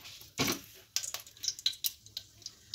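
Mustard seeds dropped into hot white oil in a wok on a gas stove: a run of sharp close clatters and crackling pops over a faint sizzle, with no talking.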